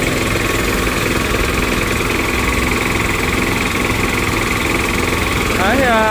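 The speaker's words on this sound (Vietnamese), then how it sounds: "Nó sẽ chạy ga 5 ti chứ các bác." A petrol-engine high-pressure car washer idles close by, a loud, steady mechanical drone with a constant buzzing hum. A voice speaks briefly near the end.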